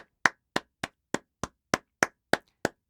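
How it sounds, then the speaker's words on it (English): Single hand claps picked up by a Nearity Mempod Pro 2S headset microphone, nine sharp, evenly spaced claps about a third of a second apart in near silence, each with a quick decay. "let's start clapping"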